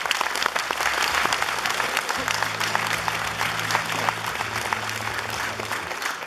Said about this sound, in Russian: сейчас должны прозвучать самые громкие аплодисменты этого зала